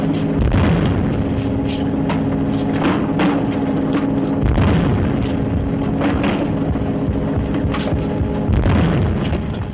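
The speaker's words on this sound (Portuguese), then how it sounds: "Lean utiliza o som de explosões associado com sincrônicas trepidações com a câmera para realçar o pavor do jovem soldado diante de uma batalha" Explosion effects in a David Lean battle scene: repeated heavy booms land every second or two over a constant rumbling roar, loud and close, with no voices.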